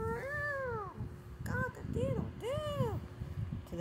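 A voice imitates a cat's meow several times, drawn-out rising and falling cries in a storytelling about the Bremen Town musicians, loud and close.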